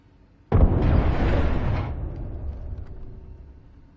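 A frag grenade detonates in a video game: a sudden loud blast hits, then rumbles and fades over a couple of seconds, with no voices.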